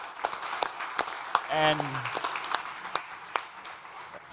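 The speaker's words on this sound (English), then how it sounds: "A huge round of applause for our speakers." A conference audience at the Playground Stage of South Summit 21 applauds the speakers with scattered, moderately distant clapping, sharp individual claps standing out, while a voice briefly speaks in the middle.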